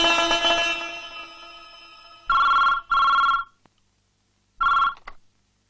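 Telephone bell ringing in a Malayalam film scene: a sustained electronic ring at first, then three separate short ring bursts with silent gaps, loud and close with no talk.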